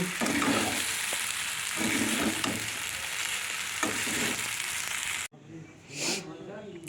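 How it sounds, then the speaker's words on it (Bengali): Chow mein being stir-fried in a pan at home, with a loud, steady sizzle broken by rhythmic stirring and scraping strokes. The frying drops off sharply near the end, leaving a quieter hiss. "একটু টিফিনে চাউমিন বানিয়ে দিচ্ছি"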